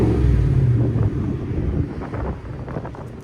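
A deep, loud 2019 Ford F-150 FX4 5.0L V8 rumbles close by as it revs with its exhaust cutout open, its throaty exhaust mixed with gusty wind buffeting.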